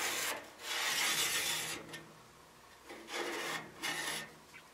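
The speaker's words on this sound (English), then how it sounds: "So I'm going to mark it with my Sharpie." A Sharpie marker scrapes across furnace sheet steel in several rasping strokes, close and fairly loud, with short pauses between passes and no talk.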